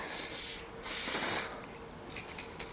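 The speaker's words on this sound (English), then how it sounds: "Just so it sprays it from this angle, and that can's already running out." An aerosol can, nearly empty, sprays waterproofing onto clothing in two loud sustained hissing bursts, the second one longer, followed by softer rustling, with no voices.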